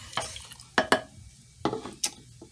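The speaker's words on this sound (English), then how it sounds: "Let's stir that up some." Spoon stirring beef and broccoli sauce in a crock pot, a few scattered scraping clinks and soft wet stirs at close range, fairly quiet.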